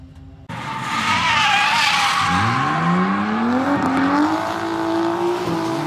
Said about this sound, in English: Now we got all the drift cars out for the session for 20 minutes.